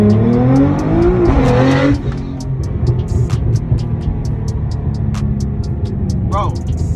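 A 2014 Nissan GT-R accelerates hard, its engine note rising through a gear before a shift, then a rough, throbbing drone with sharp clicks and ticks, loud and close from inside the car.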